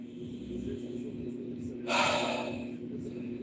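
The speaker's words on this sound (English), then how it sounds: "Cleansing breaths." A person takes a single deep cleansing breath during a live-streamed focused breathing exercise. One audible, breathy inhale-exhale rises midway over a steady low background hum.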